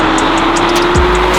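A Japanese sports car engine drones with a steady low hum and a sharp rising whine near the end, loud and close, heard alone without talk.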